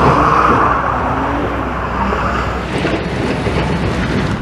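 A BMW Z4 sports car engine roars steadily up close while accelerating through a turn, the loud rumbling drone continuing throughout with road noise beneath it.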